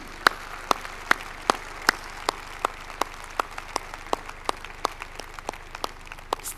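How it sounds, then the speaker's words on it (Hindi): A seated conference audience claps in honour of the women present. The applause is sparse and fairly faint, with separate, evenly spaced claps running steadily throughout and no talk over them. "इनके ऑनर में तालियां बजाई जाएं।"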